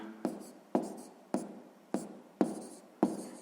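A pen writes on paper while a sixth-grade fraction math exercise is worked out. Six evenly spaced, close scratchy strokes each start sharply and fade, with no talking.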